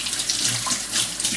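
A running water tap splashes steadily as a juicer's filter holder is rinsed under it, a close, continuous hiss of water on plastic in a sink.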